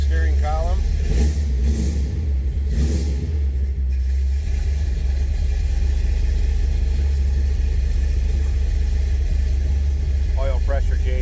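A 1972 Chevrolet Chevelle with a 396 engine runs, heard from behind the car as a deep, steady, close rumble. Someone talks briefly near the start.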